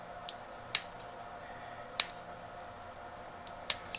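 Scissors cut a paper holiday ornament along its top edge, giving a few sharp, isolated snips spaced about a second apart over a faint quiet background.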